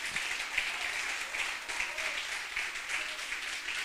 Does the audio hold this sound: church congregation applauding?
yes